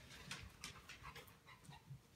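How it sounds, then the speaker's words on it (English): Dog panting rapidly and steadily nearby, very faint, with soft rhythmic breaths and no talking. "there's my dog Murph"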